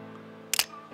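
A smartphone camera shutter on a Samsung A24 or Redmi Note 12 5G fires once, a short double click near the middle, close and crisp over a faint steady background hum.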